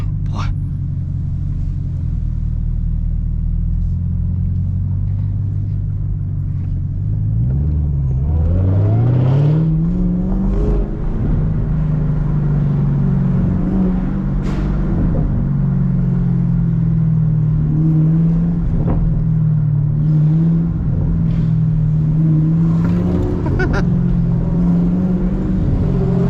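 A supercharged Chevrolet Camaro ZL1 with a six-speed manual pulling on the highway, its loud engine drone and supercharger whine climbing through the revs after a lower idle-like rumble, with voices talking over it.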